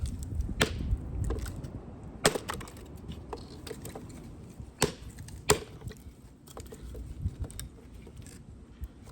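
Ontario SP53 bolo chopping small wood into kindling, several sharp separate whacks spread irregularly apart, with crackly splintering and handling noise between strikes.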